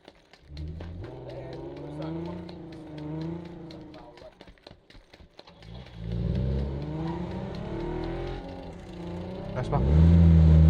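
Vehicle engine in PUBG: Battlegrounds revving and accelerating with a steady droning whir that swells louder toward the end, heard beneath players chatting over it.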